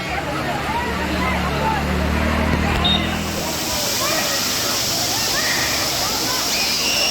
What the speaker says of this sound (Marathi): बघा हा असा धबधबा